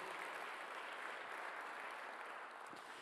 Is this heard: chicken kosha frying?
no